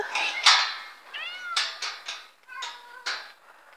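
A cat meows repeatedly and insistently at close range in a wooded cat hotel, a string of about seven short, rising and falling cries in quick succession.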